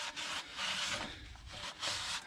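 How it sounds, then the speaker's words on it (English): A cloth rubs back and forth across the brake shoes of an Acura TL in three or four slow, soft strokes, each a quiet scraping swish separated by short pauses. "I'm also gonna give the shoes just a little wipe down here."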